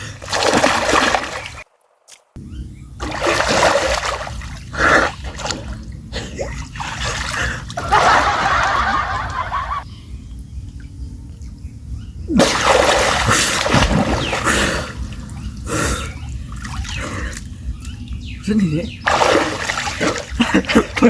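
Water splashes and sloshes loudly in repeated bursts as people dive in and surface during a water challenge, with talking and gasps mixed between the splashes.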